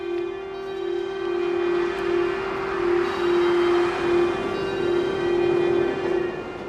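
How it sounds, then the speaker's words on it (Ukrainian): Air raid sirens wail across Kharkiv during a wartime alert, a steady, sustained tone with slow rising and falling swells in loudness, heard from a distance with no voices. "Знову лунають сирени."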